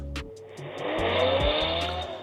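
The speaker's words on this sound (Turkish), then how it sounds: "Böyle bir araç sesi koymuşlar. Fan başlama sesi." A racing-car engine revs and tyres squeal, played as the fan start-up sound of a RedMagic Astra gaming tablet. It comes through a small speaker, loud and whining with a rising, sweeping pitch for a couple of seconds.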